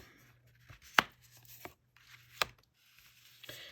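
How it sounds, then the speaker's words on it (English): Tarot cards being flipped over, a few sharp, papery slaps and soft rustles spaced apart against near silence, with a faint low hum throughout. "Let me flip over a couple more cards so you can look at them"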